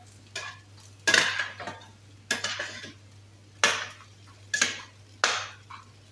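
Chicken being stirred in a pan with saffron powder, a utensil scraping and clinking against the metal in irregular strokes about once a second over a faint background hum.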